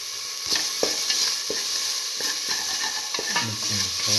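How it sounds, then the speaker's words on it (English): Salt gets stirred into eggplant and split mung bean rice frying in a pan: a constant close sizzle with irregular scraping strokes of a spoon, and a faint voice near the end. "Mix in the salt."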